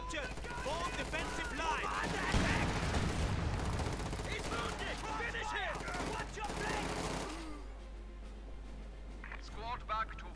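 Bazooka shots and bursts of gunfire aimed at a Puma armoured car in the real-time strategy game Company of Heroes 2, a dense and continuous barrage of battle noise with explosions, easing off near the end.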